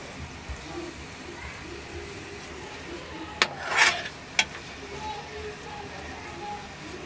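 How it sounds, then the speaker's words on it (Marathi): Chicken sukka is stirred in oil in a pan, with soft rubbing and scraping and a few sharp clicks of a spoon against the pan over steady background noise. "ह्याला थोडं तेल सुटेपर्यंत मिक्स करत राहायचं आणि अजून 1-2 मिनिटं शिजवून घ्यायचं"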